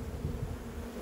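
Honeybees buzzing steadily around a hive brood frame, a low continuous drone held close throughout with no voices.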